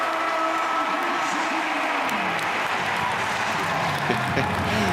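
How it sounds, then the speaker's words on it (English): A crowd of Virginia football fans cheers in a stadium during a Duke at Virginia game, a continuous broad roar with applause-like texture and a voice heard talking briefly. "the 800 Virginia fans are cheering loud because I can hear them."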